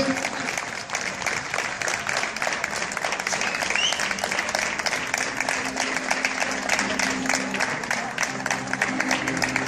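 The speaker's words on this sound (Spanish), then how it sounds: "un aplauso más fuerte, por favor, a los participantes." Sustained applause from an audience for participants at the closing ceremony of the RSCE Copa de España 2015 dog show, dense steady clapping throughout with crowd murmur and a voice beneath.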